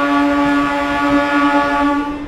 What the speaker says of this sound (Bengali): রায়নগড় রেল স্টেশনে দেখতে পাচ্ছেন বাঁকুড়া মেমু